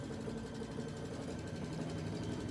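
A sewing machine runs fast and steadily while top stitching around an edge. Its whirring motor and needle chatter stay continuous and moderately loud, with no pauses.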